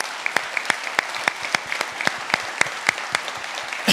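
Sparse, distinct handclaps from a small audience at a 2018 justice and institutions colloquium, a dozen or so sharp claps in a loose, fairly even rhythm, fairly close and without voices.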